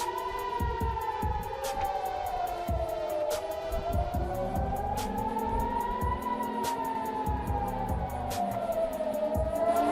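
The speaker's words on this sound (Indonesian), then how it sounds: "Sirene serangan udara terdengar di Haifa" An air raid siren in Haifa, Israel wails, rising and falling slowly and steadily, loud and continuous, with rhythmic low thumps and clicks running underneath.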